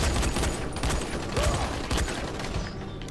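Gunfire rings out in the video game Dying Light during a fight in a collapsing settlement, a loud, dense run of rapid shots and clattering bursts packed closely through the whole moment.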